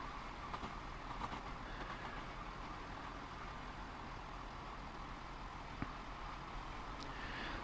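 Train Sim World 2 locomotive rolling steadily along rails, a continuous low rumble with faint clickety-clack, heard up close inside the cab, with a brief sharp knock near the end.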